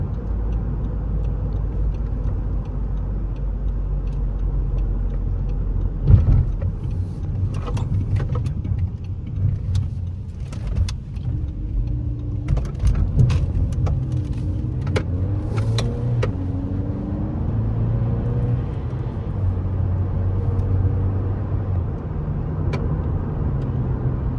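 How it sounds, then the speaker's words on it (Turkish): A 2009 Audi A3 with a DSG gearbox drives along with its engine running, giving a steady low rumble and road noise inside the car that continue throughout, with a few brief whirring mechanical sounds partway through. "Yani 80 ile giderken 1500 devirde araba gidiyor."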